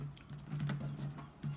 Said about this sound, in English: I'm going to split the cards.